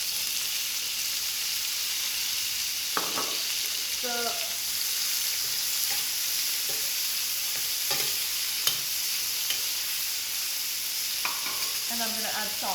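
Cherry tomatoes fry with garlic in a pan, giving off a constant hissing sizzle with scattered crackles, while a nearby voice speaks in short bursts over it.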